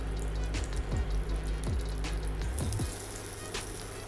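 Potato cutlets fry in hot oil in a pan, a steady close sizzle broken by several soft bumps and clatters as the pieces are set down one after another, then the frying settles into a more even hiss.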